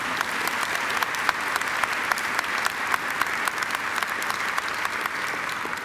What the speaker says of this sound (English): I think we do give him a round of applause too